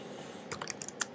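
Typing on a computer keyboard while editing a wiki-style article, a burst of about six quick clacking keystrokes after a brief near-silent pause, close and clear with no talking.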